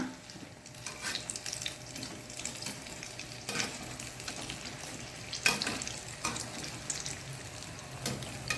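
Banana flower bonda fritters frying in hot oil, a continuous soft crackle and sizzle with occasional louder pops and stirring clinks, moderately quiet and close, no voices.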